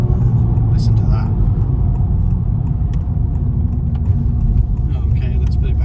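A Honda Civic Type R FL5 engine while overtaking on a road trip gives a loud, continuous low rumble and drone heard from inside the cabin, with road noise and brief speech over it.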